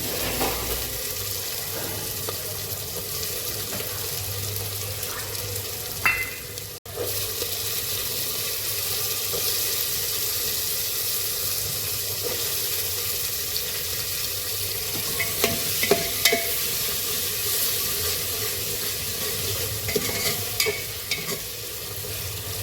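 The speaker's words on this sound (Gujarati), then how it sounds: "આપણે બટેકા નાખી દઈશું," Potatoes frying in a pan for masala pulao keep up a continuous, even sizzle for over twenty seconds, with faint scrapes and knocks of stirring now and then and no voices.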